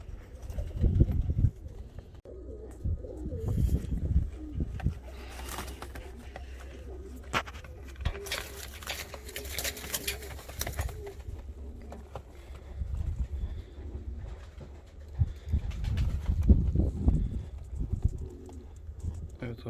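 Arab and Sazlı Rostov fancy pigeons coo in low rumbling phrases, some close and some scattered, under and between a man's ongoing speech, with occasional wing flutters and handling noise.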